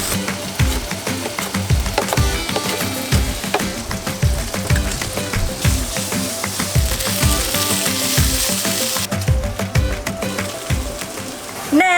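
Bacon sizzles and crackles steadily in a pan for several seconds, a dense popping hiss with occasional clinks of stirring, cooked off-grid in a converted school bus.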